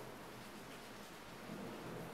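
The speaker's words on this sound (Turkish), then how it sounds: "bayağı şu anda gök gürültüsü falan var İstanbul'da." Thunderstorm in Istanbul, heard as a continuous low rumble of distant thunder blended with steady rain noise, faint and unbroken throughout.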